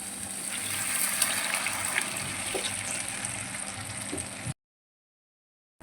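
Stock water pours steadily into a pan of goat spleen gravy with a continuous rushing gush, close and fairly loud, cutting off abruptly into silence after about four and a half seconds.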